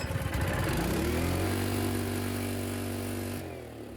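A Honda generator engine, under restoration and converted to run on LPG, revs hard and steadily as its governor pulls the throttle wide open, then drops in pitch and winds down near the end.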